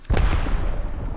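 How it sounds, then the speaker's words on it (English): A grenade blast in the video game Apex Legends, one loud close boom with a sharp attack and a rumbling tail. "I'm throwing a grenade up there right now."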